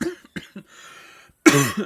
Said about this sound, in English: sorry, cough again